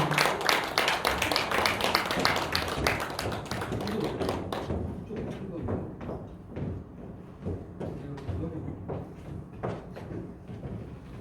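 An audience at a poetry recitation concert claps for newly introduced officers, starting as a loud, dense burst of applause and thinning out into scattered claps over about eleven seconds.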